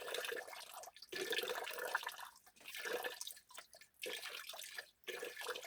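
Greyish water drains from the circuit of a twelve-year-old heat pump, splashing and trickling in an uneven, gurgling stream with brief pauses, fairly close and alone.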